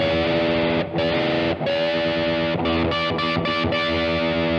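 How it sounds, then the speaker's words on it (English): A distorted electric guitar rings out a sustained dominant seventh chord, re-struck a few times with brief gaps, loud and close with an effects-laden tone. "What you're hearing is a dominant seventh."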